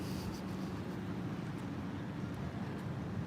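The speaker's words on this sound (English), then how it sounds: "It's a motorcycle." A motorcycle engine idles nearby on a street, a low, steady rumble that holds faint and unbroken throughout without clear revving.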